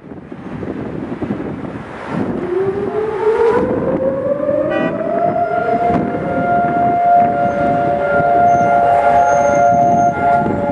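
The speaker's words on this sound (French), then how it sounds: "une fois par an, à Jérusalem, le temps s'arrête quand retentissent les sirènes" Holocaust remembrance day air-raid sirens in Jerusalem rise slowly from silence into a loud, sustained wail that holds steady, layered with a second siren from a distance, with wind buffeting the microphone.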